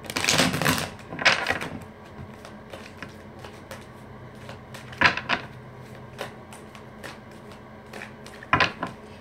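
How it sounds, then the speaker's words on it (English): A tarot card deck is shuffled by hand, heard as several bursts of riffling and flapping spread over the span, fairly close, with quieter handling noise between them. "Shuffling this deck for Taurus as well."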